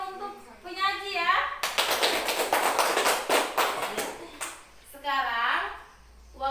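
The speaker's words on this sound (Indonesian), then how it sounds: "beri aplaus yang meriah dulu untuk penyaji ya" A classroom bursts into loud, sustained applause for student presenters, many hands clapping together for about three seconds, framed by a teacher's voice speaking before and after.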